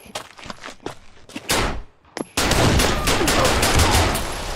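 Pistol gunfire in Pavlov VR, a rapid volley of close, sharp shots with short pauses, followed by a denser burst of sustained gunfire and metallic clatter.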